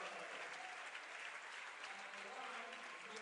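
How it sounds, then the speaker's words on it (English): College basketball crowd at an NCAA men's tournament game rising in a standing ovation, steady dense applause heard from a distance and holding without a break. "it's a standing ovation from the Mount Union crowd"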